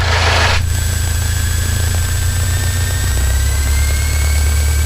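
Small training airplane taxiing on the ground during a flight lesson, its piston engine and propeller droning loud and close with a steady low hum; the pitch drops partway through as power is reduced.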